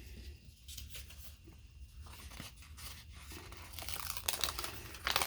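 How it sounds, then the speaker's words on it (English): Unicorn paper in a planner tearing at a corner, a close, soft ripping and crinkling that grows louder toward the end, with no voices. "I just ripped a corner."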